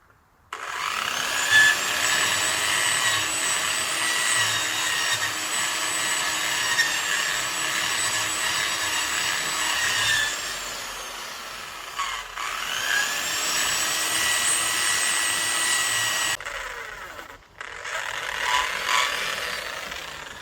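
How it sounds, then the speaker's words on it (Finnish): A power sander grinds a bump off a slippery saddle cover with a steady high whine, briefly dipping and resuming, then stopping before a short final burst near the end, close and with no talk. "Niin hion ton nystyrän tosta pois."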